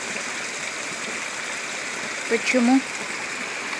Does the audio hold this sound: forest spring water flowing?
yes